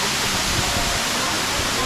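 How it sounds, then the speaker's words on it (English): Kanto Lampo Waterfall pours in a steady, dense roar of rushing water, loud and unbroken throughout with no other sounds standing out. "this is Kanto Lampo Waterfall."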